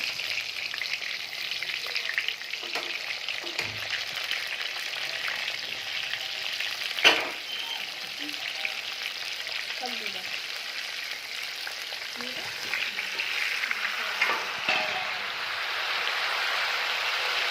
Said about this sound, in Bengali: পটলগুলোকে নুন হলুদ মাখিয়ে এবার তেলে ছেড়ে দিচ্ছে